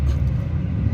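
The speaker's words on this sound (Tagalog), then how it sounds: "May lumabas na sasakyan" A vehicle pulls out of a warehouse in hot Cebu weather, its low engine rumble steady and moderately distant.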